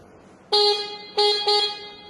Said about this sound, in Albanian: I jep edhe buris.